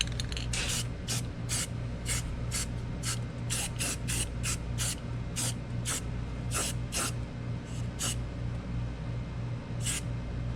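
Flat black Rust-Oleum enamel spray paint hisses out of an aerosol can in a rapid run of short, sharp bursts, about twenty, over a steady low hum of background noise, with no one talking.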